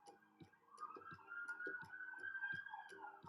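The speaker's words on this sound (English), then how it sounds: "do you guys hear the sirens?" Ambulance sirens wail faintly in the distance, a rising and steady tone drifting past, with a regular ticking nearby in the foreground.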